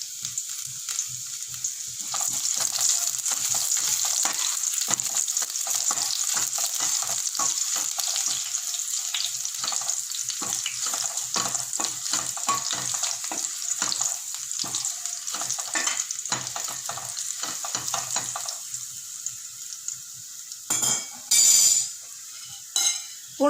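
Crushed garlic and curry leaves frying in hot sesame oil for mushroom sukka, a loud, continuous crackling sizzle with sharp spatters, then a few clattering spoon-and-pan knocks near the end.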